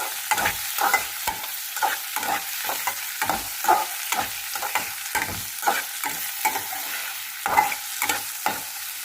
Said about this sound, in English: this onion until it becomes light brown in color. In this I am adding this chopped tomato.